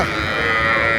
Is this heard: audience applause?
no